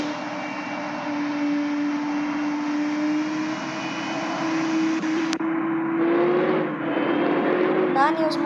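Engine of a VRL bus mod in Bus Simulator Indonesia, a 12-gear bus driving on a Karnataka traffic route, a steady droning hum that rises slightly in pitch as it moves off, with a brief sharp click partway through.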